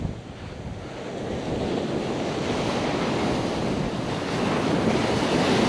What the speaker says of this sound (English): because it's getting hammered by the waves